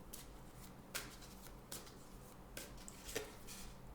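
Tarot cards handled and drawn for a reading, heard as soft, faint shuffling and a few light slaps of cards at intervals, close and quiet.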